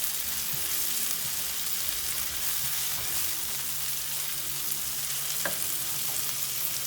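Onions cook in a pan for a spinach and tofu curry, giving a steady sizzle and crackle up close, with occasional stirring clicks and scrapes.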